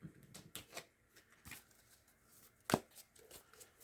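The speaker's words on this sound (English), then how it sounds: "Also going to shuffle for your archetype card while I'm at it." Soft, uneven riffling and tapping of a fairly new tarot deck being shuffled, quiet and close, with one sharper snap near the end.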